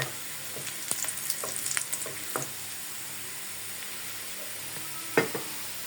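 Onions frying in hot oil in a wok for a tempering, giving a steady moderate sizzle with a few clinks and scrapes of stirring near the start and one sharp knock later.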